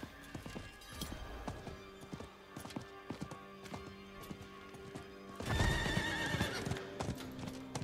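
A horse in the video game Diablo IV gallops with rapid, rhythmic hoofbeats, then lets out a loud neigh and whinny near the end, close by.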